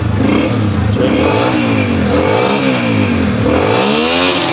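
A motorcycle just kick-started after a tune-up revs hard in a village in Punjab, its engine note climbing and falling in repeated swells, loud and close throughout.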